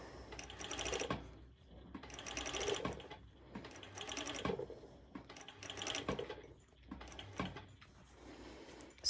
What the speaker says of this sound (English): I make sure that I'm stitching only on the lining side, and I have the stitch of the serger underneath.